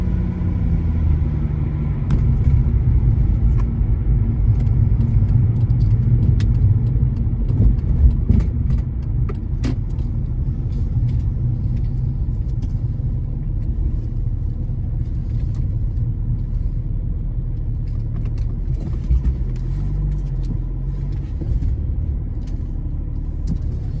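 A BMW E46 330D diesel hums along a road, a steady low engine and tyre rumble heard from inside the cabin, loud and continuous, with faint ticks and no talking.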